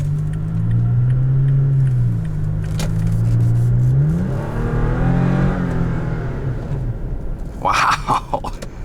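Revs of a 2018 Toyota Tacoma TRD Pro's 3.5 engine rise and fall in smooth, loud sweeps heard from the cabin. Brief jingling and clicks come near the end.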